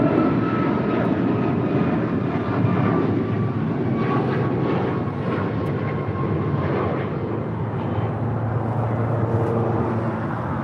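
A United airliner takes off from runway 25 right at LAX, its jet engines a loud, broad roar that holds steady and then slowly fades as it climbs away, with no voices.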